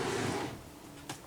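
A drawer is pulled open during a hurried search in a home makeup area, a soft rumbling slide followed by a couple of short knocks and clicks near the end, close and fairly quiet.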